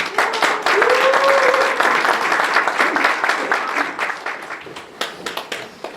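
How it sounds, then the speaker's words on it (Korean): An audience claps to welcome a university professor to the podium at a fair-election coalition launch event, loud, dense applause that thins into scattered claps near the end, with a brief voice underneath early on. "여러분 큰 박수로 환영해 주시기 바랍니다"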